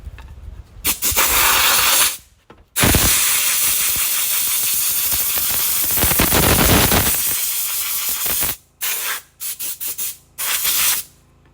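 An airbrush sprays paint onto a sign in loud, close hissing bursts, a long continuous spray broken by a pause, then several short puffs near the end.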